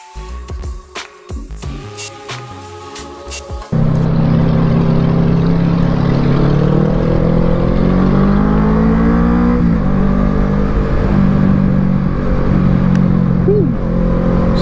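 A Kawasaki Z650 motorcycle on a test ride, its engine droning loud and steady with rising and falling pitch as it accelerates, following a few seconds of choppy wind-buffeted noise at the start.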